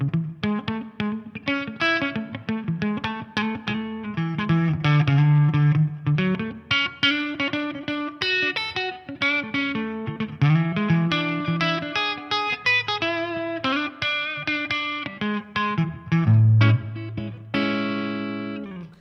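Seventh chord arpeggios over a 1-4-5 progression played on an effects-processed electric guitar with distortion and reverb, notes picked one after another in a flowing line, loud and up close with no talking.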